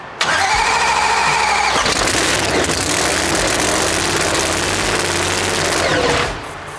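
A race car engine for the Bad Blood No Prep Kings car fires up with a sharp crank, then roars loud and rough at a high idle, close by, before cutting off abruptly near the end.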